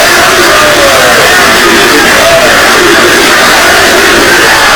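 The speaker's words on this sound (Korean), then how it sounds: "주간 400명에 가까운 졸업생들이 일제히 환호성을 지릅니다" Nearly 400 graduates at a university commencement cheer together, a loud, sustained roar of crowd voices that stays dense and unbroken throughout.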